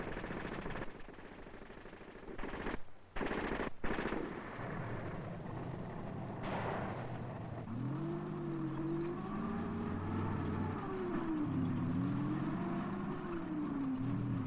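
Tanks advancing down a street in wartime combat training: a continuous deep engine rumble and clanking, with sharp blasts early on and a wavering mechanical whine building later. No voices.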